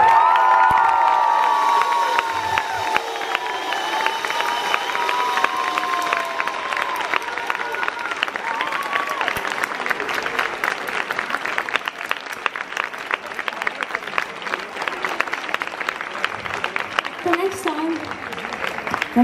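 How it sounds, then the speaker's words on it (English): An audience claps and cheers at the Longlake Roam Festival during a concert, a dense sustained applause with scattered whoops and shouts throughout. "I want you to give her a really big applause now for the birthday"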